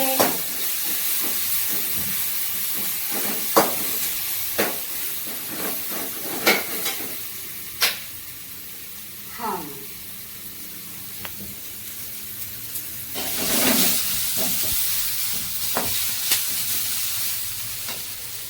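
Chopped ingredients sauté in a pan for homemade pasta, a soft continuous sizzle and hiss with scattered scraping clicks of a spatula, fairly quiet and without speech.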